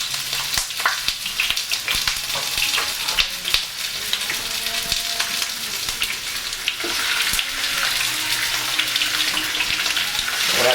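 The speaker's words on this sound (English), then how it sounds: "As you can hear it searing, that's what we want." Steady sizzling and crackling of snapping turtle meat browning in a hot pan, close and continuous, with occasional clinks and soft tapping underneath.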